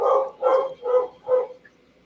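A puppy barks four times in a steady rhythm, each yip fairly loud and close, with brief gaps between and a fading quiet tail; no one speaks.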